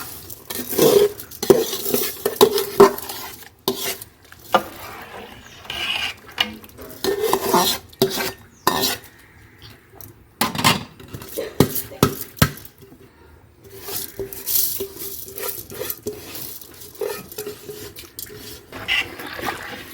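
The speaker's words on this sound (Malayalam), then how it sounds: "അരിയിട്ട് നല്ലതുപോലെ ഒന്ന് ഇളക്കി കൊടുക്കുക" Rice being stirred into a pot of boiling water for Malabar chicken biryani, with repeated scraping and clinking of a utensil against the pot in uneven bursts, close and fairly loud, with no talk.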